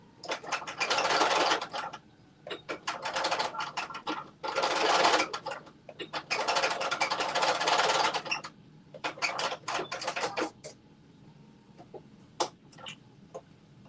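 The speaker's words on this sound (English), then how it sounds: "put a second stitch in here" A sewing machine stitches a Butterick jumpsuit in several loud bursts of rapid whirring, separated by short pauses, ending in scattered single clicks and ticks, with no one speaking.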